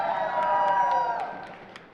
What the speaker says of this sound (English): Can you all give yourselves a round of applause?